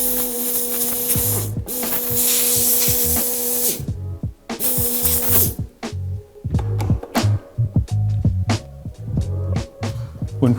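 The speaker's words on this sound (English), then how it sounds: "Use an air gun to shrink the heat shrink down" A heat gun blows hot air onto heat shrink tubing over a union cable termination, a steady loud hissing roar for about four seconds, then cut into short uneven bursts that stop and start.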